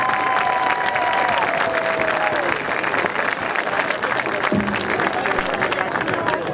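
A large crowd at a marching band community night applauds and cheers for the show's design team, a loud, dense wash of clapping and shouts filling the space throughout, with a brief tonal squeal early on.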